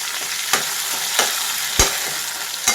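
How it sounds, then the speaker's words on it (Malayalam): Tomatoes fry in a pan with a loud, steady sizzle right up close, broken by a few sharp scraping knocks of a spoon stirring them. "തക്കാളി ഞാനിവിടെ തക്കാളി ഇട്ട് കൊടുക്കാം കേട്ടോ"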